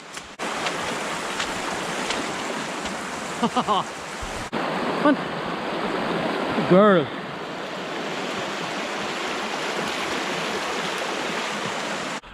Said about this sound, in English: We have a lovely river crossing.